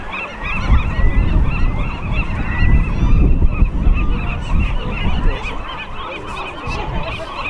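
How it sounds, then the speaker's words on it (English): Gulls call repeatedly beside the Alcatraz lighthouse at night, a dense chorus of honking cries over steady wind. "Little seagulls."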